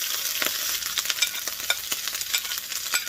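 Chili and garlic fry hard in a little hot oil for chicken liver with holy basil, crackling in dense, steady sizzle with sharp pops and splatters, close and fairly loud throughout.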